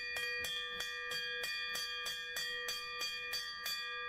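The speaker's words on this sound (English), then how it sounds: "the sellout bell timer went off. I had to ring the bell." A small bell rings repeatedly in a steady rapid rhythm, about three strikes a second, each bright ringing tone blending into the next, close and clear with no talking.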